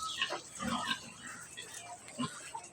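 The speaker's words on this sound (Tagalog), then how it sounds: "Ay, si baboy damo nga yan, oh." A wild pig on a farm in Tagaytay gives several faint, short grunts in irregular bursts, heard at a distance and close to the noise floor.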